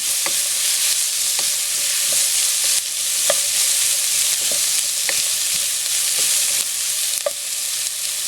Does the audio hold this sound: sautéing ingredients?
yes